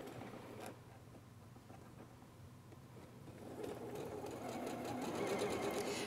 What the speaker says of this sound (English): Now I'm going to stop and do a little back stitch.